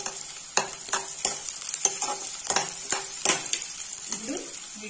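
Potatoes and thinly slit green chili fry in a pan for an aloo curry, a steady close sizzle broken by repeated scraping stirs of a spoon against the pan, with no talking.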